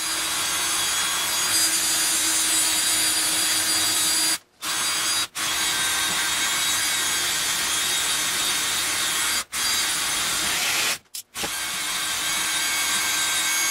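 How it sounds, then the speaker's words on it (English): A power drill bores a 5/16-inch hole into wood with a harsh, continuous whir, cutting out briefly a few times before resuming. "Now I'm going to drill a 5/16 in the other hole next"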